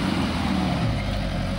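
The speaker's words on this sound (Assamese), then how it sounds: "নাই পোৱাহি তলৰ পৰা উঠি আহিছে গাড়ী দেখিছে আপোনালোকে এইখনে হল জিপসি" A Maruti Gypsy jeep climbing a steep riverside slope from below, its engine giving a steady low rumble that stays loud and continuous throughout.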